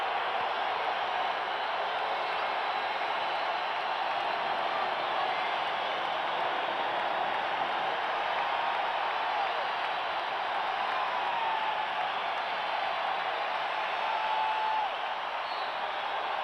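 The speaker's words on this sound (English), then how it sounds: "This crowd trying to get the Bulls going right here." A packed basketball arena crowd at Chicago Stadium roars for the Bulls against the Pistons in a playoff game, a dense, continuous wash of cheering and applause that holds steady at full volume the whole time.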